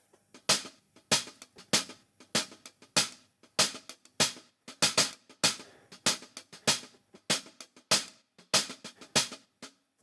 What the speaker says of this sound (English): which is a disco groove I got from a MIDI pack.